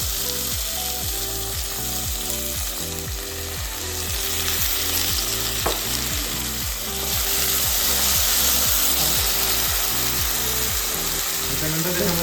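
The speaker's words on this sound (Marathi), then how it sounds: "त्यानंतर परत एकदा मिरच्या टाकल्यानंतर थोडंसं परतून घ्यायचंय." Chilies sautéing in a hot pan while cooking paneer lababdar, a steady loud sizzle with a regular rhythmic scraping or stirring pulse running throughout.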